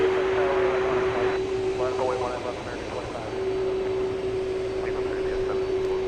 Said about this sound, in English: Looks like an Airbus